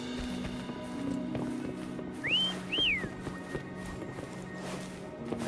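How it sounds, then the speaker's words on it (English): Two rising whistles, clear and close, call a horse in the video game Wuthering Waves. A soft ambient hum runs underneath and faint hoof-like clops follow. "Try whistling."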